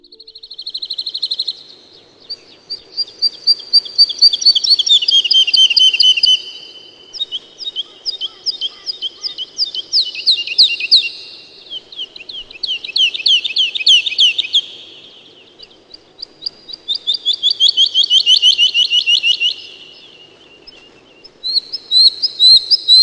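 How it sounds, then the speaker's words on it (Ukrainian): Various birds sing loudly and continuously, chirping and trilling phrase after phrase over a faint, steady low hum. "Навесні можна почути різноманітних птахів."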